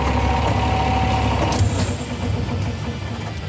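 The engine of a Patria XC-360 armoured vehicle idles nearby with a steady, loud, throbbing rumble that holds fairly constant, with a small shift partway through.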